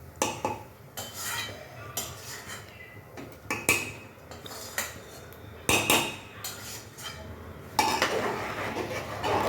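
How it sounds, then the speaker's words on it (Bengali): A metal spoon scrapes and clanks against a pressure cooker while onion, ginger, garlic, green chilli spices and chicken mince are stirred in for ghugni, the knocks coming in irregular bursts, close and fairly loud with no talking. "ভালো করে নেড়ে দিচ্ছি"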